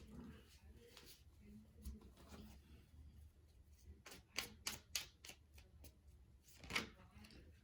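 Tarot cards being shuffled in a series of quick riffling snaps, with a louder burst of crisp flicks midway, over a quiet room hum and faint background voice.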